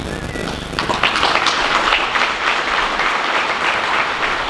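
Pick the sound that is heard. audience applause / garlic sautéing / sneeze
audience applause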